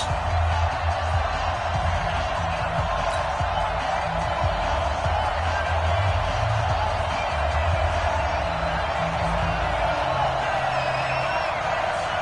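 Stadium crowd in an EA Sports NFL video game before a Cincinnati Bengals versus Baltimore Ravens matchup, a steady dense roar of cheering and whooping that holds at a constant level throughout, with no clear talk.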